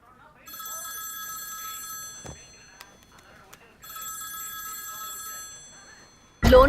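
A telephone rings in two long bursts of bright electronic trills, with a short pause between them; faint voices and a sudden loud noise follow.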